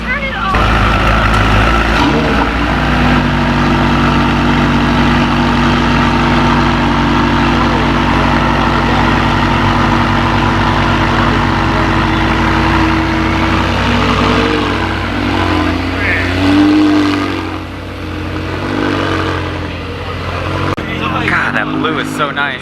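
A McLaren 720S cold starts, then settles into a loud, steady, deep engine drone that holds close by for the whole stretch, with faint voices in the background.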